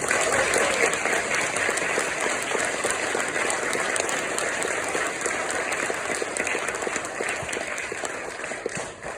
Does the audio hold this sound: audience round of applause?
yes